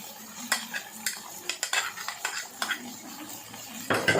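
A spoon clinks and scrapes in a pot while ground green chillies are stirred into aloo chicken palak, with irregular metallic taps and soft wet stirring, close and moderately quiet.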